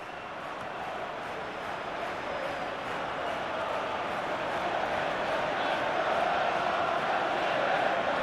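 A football stadium crowd in the FIFA 14 video game gives off a steady, dense roar of massed voices that swells slowly over several seconds, heard without any clear single voice standing out.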